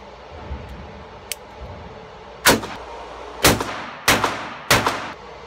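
Four sharp, loud shots from a Sig Sauer P938 .22 caliber pistol ring out at a steady pace, each a hard crack with a short decay, preceded by a small metallic click.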